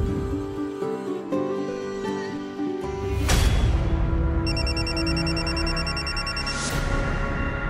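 A phone rings partway through, with a repeating electronic ringtone pattern entering over background music and continuing loudly to the end.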